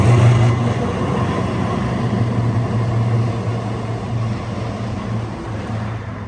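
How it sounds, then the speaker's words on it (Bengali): A tram rolls along a Melbourne city street, a steady loud rumble of wheels and motor filling the whole stretch and easing slightly toward the end, with no talk over it. "মেলবোর্ন সিটির রাস্তা দিয়ে হাঁটব আর ট্রামের শব্দ হবে না তা তো হয় না"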